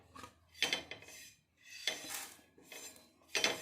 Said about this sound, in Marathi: आता आपण हे पोहे एका भांड्यामध्ये काढून घेणार आहोत